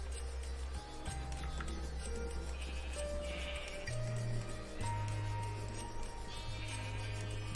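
Sheep bleating repeatedly in Minecraft 1.18, several short wavering bleats close by over light game ambience, with no talking.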